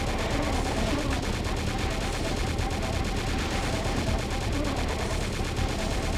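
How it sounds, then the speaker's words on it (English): A chain gun in a shooter video game fires in a dense, continuous rattle of rapid shots, loud and up close, holding an unbroken rhythm throughout. "it's gonna have to be a chain gun then"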